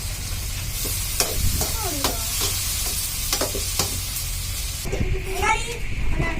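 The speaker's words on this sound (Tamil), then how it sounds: "தக்காளி வெங்காயம் நல்லா வதங்கிடுச்சு" Tomatoes and onions sautéing in a pan for a country chicken fry, loud close frying hiss with quick stirring clatters, while people talk over the cooking.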